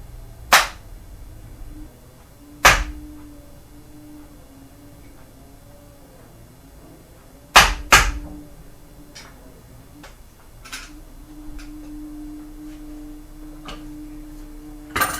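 Several sharp metallic strikes of a hammer on the end of a screwdriver ring out at irregular intervals, a few loud hits followed by fainter taps, with quiet gaps in between, while working on the drum brakes of a 2017 Toyota Corolla.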